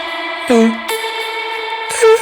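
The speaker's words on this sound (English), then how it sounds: "The lead vocal with the same delay, glue compressed, reverb thing." A sustained sung vocal with echoing delay and reverb, notes repeating and trailing off, with short pitched phrases entering twice.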